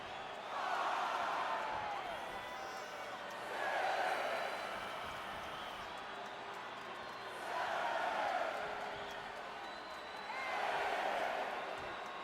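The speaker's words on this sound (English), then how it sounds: "She will soak in the noise of the crowd" A wrestling event crowd roars in four swelling waves of cheering and shouting over a steady background din, rising and falling every few seconds.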